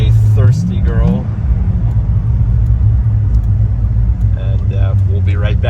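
A 2006 Chevy Corvette Z06 turns in at a gas station, its engine holding a low, steady rumble close by, with someone talking briefly at the start and again near the end.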